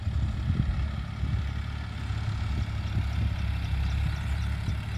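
A John Deere 5305 tractor engine idles nearby, a steady low diesel rumble with an even throbbing pulse that runs unbroken throughout.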